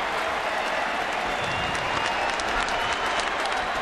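A baseball stadium crowd of about 36,000 on its feet applauds and cheers, a loud continuous roar of clapping and shouting that stays dense and unbroken throughout.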